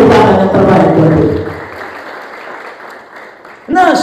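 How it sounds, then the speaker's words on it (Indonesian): Church congregation applause during a sermon, a loud burst of clapping that swells and fades over a few seconds before a voice cuts back in. "Beri tepuk tangan yang terbaik buat dia."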